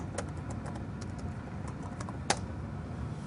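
Faint, sparse keystrokes on a computer keyboard during a network security class, scattered taps with one sharper click, over steady background noise.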